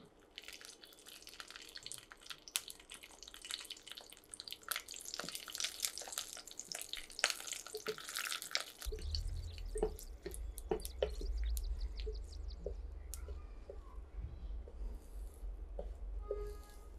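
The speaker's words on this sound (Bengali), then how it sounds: "আর এখন ৩ টা শুকনো মরিচ দিয়ে দিচ্ছি।" Three dried red chillies fry in a hot wok, with crackling and sputtering pops at first before a low rumbling hiss takes over partway through, close and fairly quiet.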